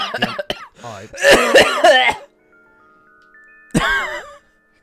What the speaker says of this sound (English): Guy just had a fucking like coughing breakdown